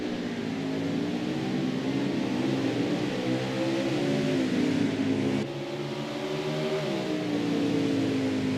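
Racing truck engines at a truck series qualifying session on the Mid-Ohio road course, a loud continuous whine that climbs and dips in pitch as the trucks accelerate and shift, with no voices.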